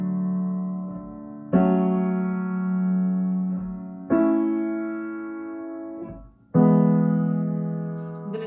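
Left hand part of a song on piano, sustained low chords changing roughly every two and a half seconds, close and solo with no voice.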